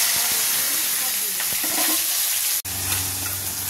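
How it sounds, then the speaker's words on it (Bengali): Onions and green chili fry in mustard oil in a kadai, a close, continuous sizzle with stirring clicks and a brief sharp knock midway. "পেঁয়াজগুলো আমার এখানটায় হাফ ভাজা হয়ে গেছে"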